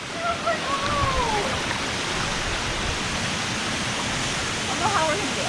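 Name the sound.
waterfall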